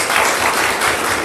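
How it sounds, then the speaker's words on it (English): Seminar audience applauding at an estate planning and family protection event in San Jose, a short, dense wash of clapping at steady loudness with no voices. "big round of applause, and a big round of applause for my wife"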